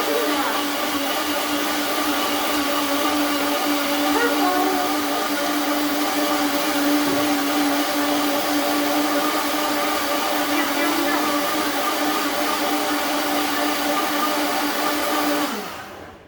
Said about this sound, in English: whatever blender you have, let it go until it's smooth and creamy